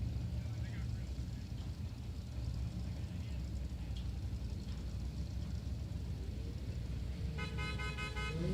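The General Lee's car horn blares its musical tune near the end, after steady engine and crowd noise at a drag strip during Sick Week 2023, with a commentator talking throughout.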